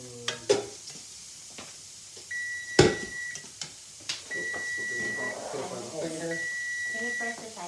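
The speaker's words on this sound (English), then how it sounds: "Can you press the timer?" A kitchen timer beeps in a home cooking setting while fettuccine Alfredo is prepared, giving three sustained electronic tones spaced evenly apart, alongside clattering utensils and stirring sounds.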